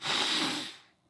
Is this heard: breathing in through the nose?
yes